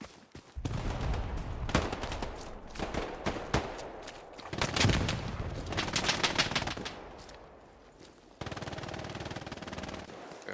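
Sustained bursts of machine gun fire in a World War II battle in Hell Let Loose, rattling in long rapid volleys with short pauses, fairly distant and moderate in level, with a steadier burst near the end.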